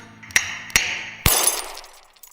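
Light bulbs chilled in liquid nitrogen are carefully smashed, giving three sharp, close glass cracks in quick succession, the last followed by a brief tinkling scatter of shards that fades out.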